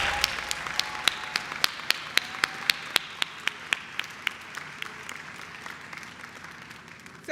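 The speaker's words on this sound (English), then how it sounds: "You may applaud." Audience at a student academic excellence awards ceremony applauding: sparse, distinct individual claps in an irregular rhythm over a soft roomy bed, thinning out toward the end.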